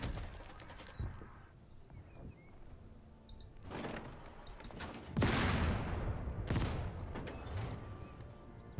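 Mortar and artillery shells firing and landing in the tank strategy game Total Tank Generals, with several sharp broadband blasts spaced a second or two apart over a low rumble, the loudest near the middle.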